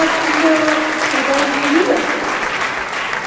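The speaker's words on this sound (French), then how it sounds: "vous pouvez les applaudir, ça va les encourager" Conference audience applauding speakers at a women-and-digital-tech event, a dense steady wash of clapping that holds for a few seconds over a faint tonal background.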